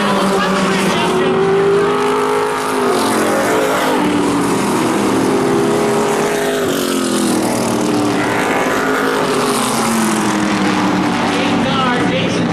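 Race cars at a short-track oval sweep into turn four in a pack, engines droning and rising and falling with shifting pitch, loud and continuous for the whole stretch, with a commentator talking over the noise.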